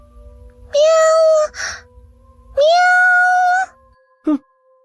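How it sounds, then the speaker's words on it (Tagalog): A cat meows twice in long, drawn-out, loud calls close by, followed by a brief short chirp-like sound, with quiet pauses between. "Baka pusa lang yon, huwag mo na lang pansinin."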